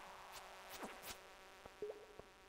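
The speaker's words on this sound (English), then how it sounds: "Fuzzy little bee thing." A fuzzy bee-like insect enemy in Stardew Valley buzzing faintly, with a few rising and falling whines and short chirping game blips over a quiet background.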